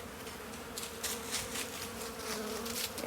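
Honeybees hum inside a hive, a dense, continuous buzzing of many insects close by with soft fluctuations in intensity.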